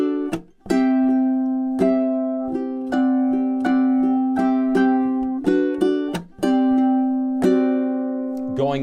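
A ukulele plays a few measures of a piece: clear plucked notes ring out one after another at a moderate pace, close and loud, with no voice.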